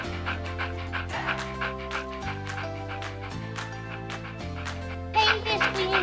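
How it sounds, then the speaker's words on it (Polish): A cartoon dog pants in rapid rhythmic breaths over steady background music in a Polish children's animated adventure, with a brief louder burst near the end. "O, kolejny piesek."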